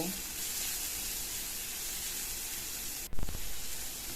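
Chopped chilli, salt, turmeric and cumin fry in a pan with a steady, even sizzling hiss, broken near the end by a short knock of the spoon.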